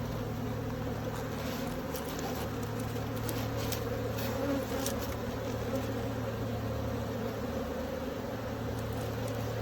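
Honeybees from a colony in a straw skep hive hum and buzz in a steady, dense drone that holds close and even throughout, with no voices.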